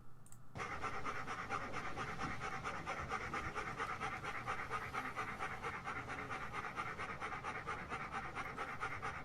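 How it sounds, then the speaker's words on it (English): A dog pants rapidly and steadily up close, a continuous rhythmic huffing that carries on unbroken for several seconds with no voices. "It was a dog!"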